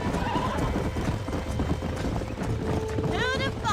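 A horse whinnies loudly near the end after steady hoof clatter during bronco busting in Red Dead Redemption, with game music and a voice under the action.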